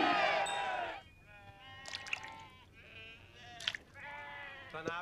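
Sheep bleating at a desert encampment with camels, several wavering bleats spread across the scene, one loud burst near the start and softer calls after, over quiet background.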